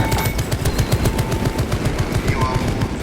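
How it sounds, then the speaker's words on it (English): Rapid automatic gunfire from the Tarantula sentry gun in Warhammer 40,000: Space Marine 2, a steady loud stream of shots running throughout with no pause. "Activating tarantula sentry gun."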